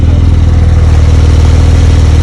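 A Porsche 992 911 Turbo S engine idles loudly in sport mode with a deep, steady rumble and a slight pulsing burble.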